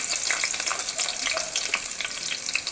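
Onions fry in hot oil for a vegetable biryani, giving a close, continuous crackling sizzle with light stirring scrapes and no talking.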